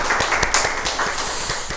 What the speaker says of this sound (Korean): 우리 박수를.